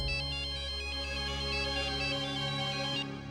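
Phone ringtone heard while placing a call, a repeating melodic electronic tone lasting about three seconds, clear and steady with no talking.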